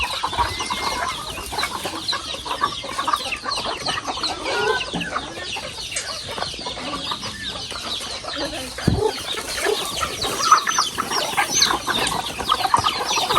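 Native chickens at a rural farmyard in Mindoro, clucking repeatedly at close range with scattered calls and occasional crowing, busy and continuous without speech.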